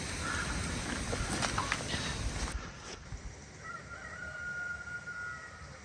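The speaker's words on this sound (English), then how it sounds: "The following morning we woke to the sound of an exuberant cockerel" A cockerel crows in the early morning at a rural park-up in Devon and Cornwall, sounding faint and distant, with a few scattered knocks and rustles nearby.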